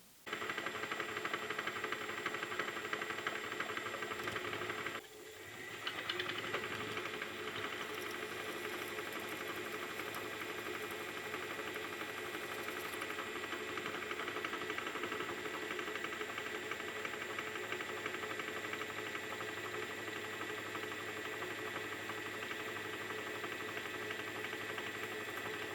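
A Clausing lathe drills a hole through metal stock with a steady, even mechanical drone. The hum briefly dips once early on, then carries on unchanged to the end.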